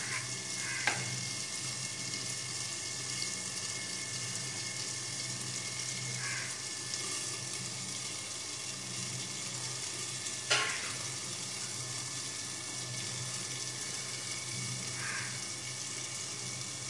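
Rice and moong dal fry in hot oil in a pan, a quiet, steady sizzling hiss with a few faint clinks of stirring breaking through now and then.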